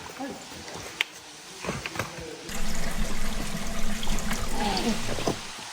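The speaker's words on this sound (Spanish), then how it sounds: "podemos escuchar el sonido del agua subterránea, mucha agua escurriendo de la montaña que va a llegar al cenote" Underground water trickles down from a mountain toward a cenote in the jungle of the Chimalapas, Oaxaca, starting as faint scattered drips and rustles, then swelling into a steady, moderate rush of flowing water that continues to the end.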